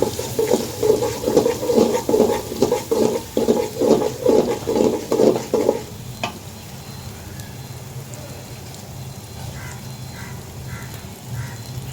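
Water splashes into a pan of cooking spices, garlic and ginger paste, turmeric and chili powder for a gourd curry, a loud rhythmic glugging pour for several seconds, then a quiet simmering hiss.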